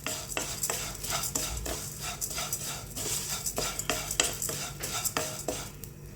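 Vermicelli being stirred as it fries in ghee in a pan, with a repeated scraping and clinking of a utensil against the metal in an uneven rhythm over a soft, steady sizzle, close and fairly loud throughout.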